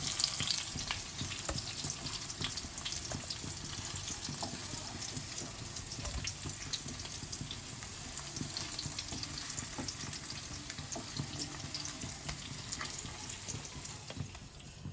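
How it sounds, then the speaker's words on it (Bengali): Paneer pieces are shallow-frying in hot oil, giving a continuous close sizzle and crackle that holds steady the whole time, with no talk. "পনিরগুলো হালকা করে ভাজা হয়ে গেছে"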